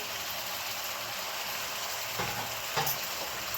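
Finely chopped gongura leaves fry in a pan with a dense, even hiss and a couple of soft stirring knocks near the end.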